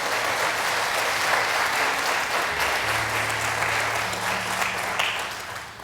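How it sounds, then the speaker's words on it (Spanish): A church congregation applauds loudly and steadily, a dense wash of clapping that carries on for several seconds with a low hum beneath and fades slightly at the end. "Dele ese fuerte aplauso al Señor"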